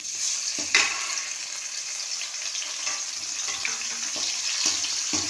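Ground masala paste frying in a pan gives off a steady close sizzle, broken by a few sharp scrapes and clicks of stirring, with no speech.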